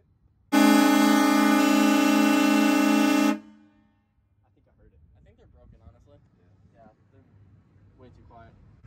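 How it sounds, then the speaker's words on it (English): A truck horn blasts loudly and continuously for about three seconds, close and alone, then stops, leaving only faint quiet background sounds afterward. "You got two horns, you got this horn. I think that's the loud one."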